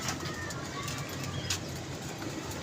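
Pigeons kept by a pigeon club, with wings flapping and fluttering at close range in a steady, busy texture, plus a few soft scattered coos and bird sounds.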